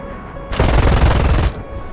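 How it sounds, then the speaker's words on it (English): Cannon fire from an F-5E jet in the flight combat game War Thunder: one loud, sustained burst of about a second, rattling steadily against a quieter engine drone before and after. "No heaters, so gotta do this with guns."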